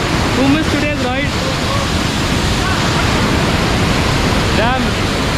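Kaigal Falls pours as a loud, steady broadband roar of water, close and continuous, while a few voices briefly chirp and talk beneath the rushing sound.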